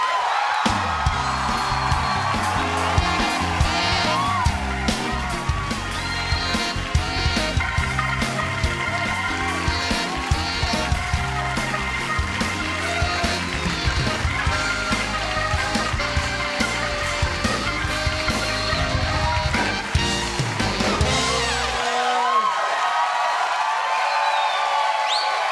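A studio audience cheers, whoops and applauds loudly for Sandra Bullock's entrance while band music plays, and the crowd noise stays dense and sustained before the music cuts off near the end.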